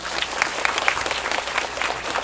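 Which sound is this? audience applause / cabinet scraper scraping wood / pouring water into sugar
audience applause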